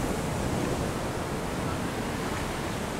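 A waterfall at Lavrinhas, Brazil, roars with a steady, dense wash of falling water that fills the whole stretch without any break or change.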